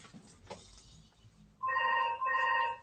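A telephone rings close by in a room where orchids are being repotted, two loud electronic ring bursts following a few quiet words.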